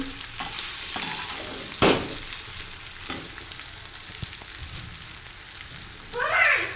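Tomatoes frying in a pan for a curry, a continuous close sizzle broken by occasional sharp scrapes and knocks as they are stirred, louder spitting bursting up near the end.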